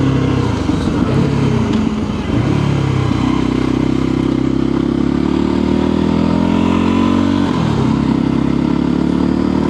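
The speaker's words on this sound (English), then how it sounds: "the exhaust notes and the way it pops and bangs as you decelerate" A motorcycle engine burbles steadily and loudly up close, a continuous throaty exhaust drone with slight shifts in pitch as it runs.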